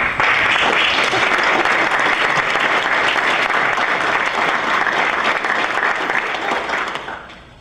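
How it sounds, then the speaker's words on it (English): A large audience at a University of Virginia Board of Visitors meeting breaks into sustained applause, a loud, dense wash of clapping that holds steady for several seconds before tapering off at the end. "So let's give ourselves and the university a round of applause"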